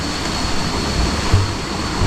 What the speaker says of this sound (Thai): คือเสียงน้ำแรงมากเลยนะสุดจุดนี้นะครับ